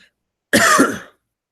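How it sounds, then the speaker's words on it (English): A single short, harsh cough close to the microphone, surrounded by silence. "I apologize if I'm coughing throughout this broadcast."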